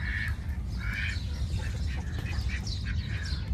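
Ducks quack in short nasal bursts over a steady low rumble of background noise, a few calls overlapping nearby, in Saudi Arabia.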